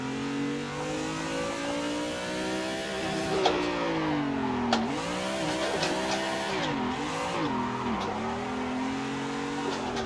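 A car drifts in a racing simulator game, its engine revving and wavering up and down continuously, with occasional sharp tyre squeal and skid accents over a sustained roar.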